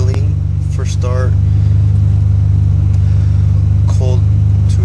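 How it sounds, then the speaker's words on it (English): A 1992 Mitsubishi 3000GT VR-4 idles right after its first start, a loud, steady, low engine drone that runs throughout while someone talks briefly over it. "So now that the car is indeed idling, first start"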